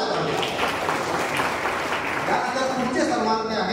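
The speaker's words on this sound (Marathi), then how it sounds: "टाळ्या वाजत आहे." An audience claps through an awards ceremony at an Indian Medical Association installation event as a badminton prize winner is honoured. The clapping is dense and steady, with voices mixed in throughout.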